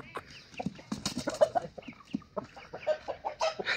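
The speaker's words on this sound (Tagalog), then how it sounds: "tingnan mo yung mga manok natin" Chickens and chicks for sale cluck and chirp together at a farm, a busy, moderately quiet chorus of overlapping short calls with no talking.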